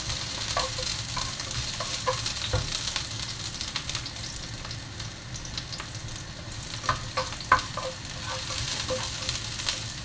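Onions sauté in a pan, a continuous close sizzle with scattered pops and clicks of stirring, steady throughout with no talk.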